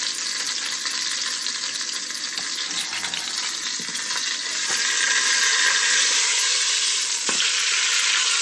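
Lamb shanks with herbs and spices browning in a hot pan, a loud, steady, close sizzle of frying that swells slightly midway, with faint clinks as the meat is turned.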